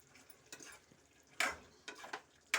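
Chicken fry being tossed and stirred with curry leaves and coriander in a pan, giving a few soft scraping and clinking strokes spaced a second or so apart, fairly close and quiet.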